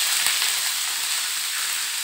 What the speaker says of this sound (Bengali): এই হচ্ছে লাউয়ের চোখলাটাকে ভেজে নেব।